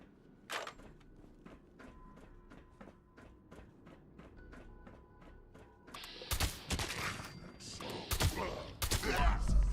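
Combat shotgun fire in Fallout 76: several seconds of light, evenly spaced ticking, then a run of loud, booming shots in quick succession.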